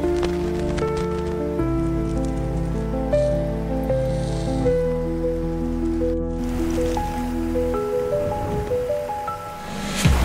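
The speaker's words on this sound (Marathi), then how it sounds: "खूप पावसाला सुरुवात झाली." Heavy rain begins falling near a waterfall on a trek in Nashik, a continuous wash of drops and flowing water under a sustained droning tone.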